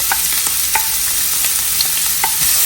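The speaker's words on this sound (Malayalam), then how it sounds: "വെളിച്ചെണ്ണ ചൂടായി വന്നതിന് ശേഷം നമുക്ക് ചോപ്പ് ചെയ്ത് വെച്ചിരിക്കുന്ന സവാള ചേർത്ത് കൊടുക്കാം" Chopped onion hitting hot coconut oil in a pan, a loud dense hiss with rhythmic scraping taps from stirring, no voices present.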